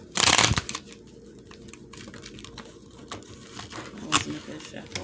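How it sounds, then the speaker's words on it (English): Tarot cards get a quick shuffle, a short loud riffling burst right at the start, followed by quieter soft handling and faint card taps in a calm room. "That wasn't a good shuffle."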